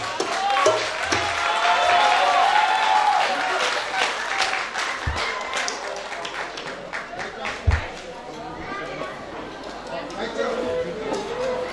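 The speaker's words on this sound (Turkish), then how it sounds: "Alkış." Audience applause from a crowd, a dense patter of many hands clapping for most of the stretch with chatter and voices mixed in, thinning toward the end with a couple of louder thumps.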